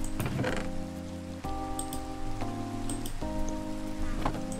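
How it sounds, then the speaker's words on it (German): Steady rain patters at night in the video game Minecraft, a soft hiss running beneath sustained, shifting background music tones. "Und okay, es regnet."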